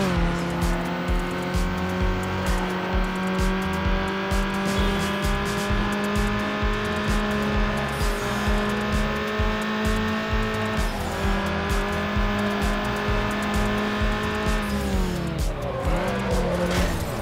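Tires squeal and skid as a car loses control in the street-racing game Need for Speed Underground, a loud sustained screech over steady engine drone lasting the whole stretch, rising into a final slide near the end.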